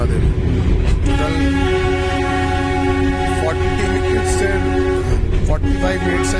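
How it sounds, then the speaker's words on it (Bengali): The Darjeeling toy train, a narrow-gauge joy ride near Batasia Loop, rumbles along loudly and sounds a sustained horn that rings over the running noise. "ট্রেনটা ঘুরে আবার দার্জিলিং স্টেশনের দিকে রওনা দেবে"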